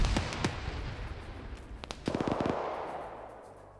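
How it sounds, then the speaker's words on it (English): A video game grenade blast mixed with rapid gunfire: sharp cracks, then a dense rattling burst that decays into a rumbling tail, loud and near. "Grenade gets thrown in as well."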